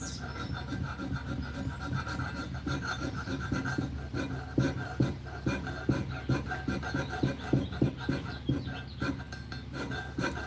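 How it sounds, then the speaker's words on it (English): Hand scraper removing blue marking compound from a metal surface, a series of short rhythmic rasping strokes, close and clear, growing more distinct and evenly spaced midway through. "Just scraping off the blue."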